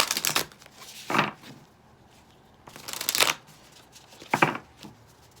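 Inner Child Oracle cards being shuffled in three separate bursts of riffling and sliding, close and fairly soft, with quiet gaps between them and no talking.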